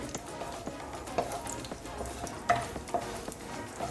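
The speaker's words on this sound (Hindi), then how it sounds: "लो फ्लेम पे हम थोड़े से ये काजू ले रहे हैं और इनको हल्का सा रोस्ट करेंगे हम लोग लो फ्लेम में" Cashews roast gently in oil over a low flame, a soft, faint sizzle with occasional light pops and stirring taps, close by and without speech.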